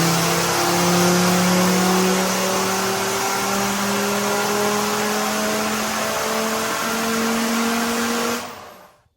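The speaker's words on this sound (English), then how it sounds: "the obvious benefit, the 5-cylinder sounds amazing" Mercedes OM605 five-cylinder turbo diesel in a Series 1 Land Rover, a loud, steady engine drone with a rising pitch as it pulls hard, then cutting off abruptly at the end.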